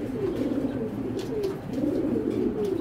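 A racing pigeon coos nearby in a series of low, rolling, throaty coos. Faint chirps and light background noise sound between them.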